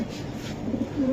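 A red-eyed, light-coloured racing pigeon gives a short low coo close up, a brief rolling call over a faint background hum.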